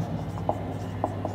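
A pen writes notes, a soft scratching with a few faint strokes over a low steady hum.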